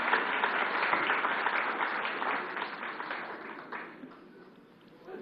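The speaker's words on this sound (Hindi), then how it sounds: "उनको तालियों से स्वागत कीजिए।" A studio audience at a televised political forum applauds to welcome Delhi's chief minister. The dense, steady clapping is fairly close and fills the room, then thins and fades toward the end.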